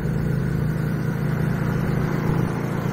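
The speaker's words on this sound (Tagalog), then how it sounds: "iba rin talaga yung tunog ng V-twin engine" A loud FKM Victorino 250i V-twin motorcycle engine rumbles steadily close by, with a deep, uneven throb and no voices.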